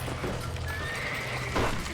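Horses neighing in the video game Red Dead Redemption, a loud whinny rising near the end over a constant din and the clatter of hooves.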